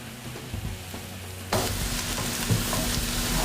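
Mushrooms and vegetables for a wild mushroom and sage stuffing sauté in a pan. A quieter low hum runs for the first second and a half, then a loud, steady broadband sizzle takes over, with a few stirring scrapes and no talk.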